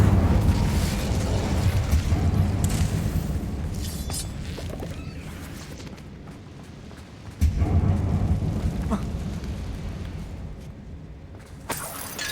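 Incendio fire spell cast in Hogwarts Legacy, a rumbling, crackling whoosh of flame with a sharp burst partway through, loud and sustained before fading, with no voices heard.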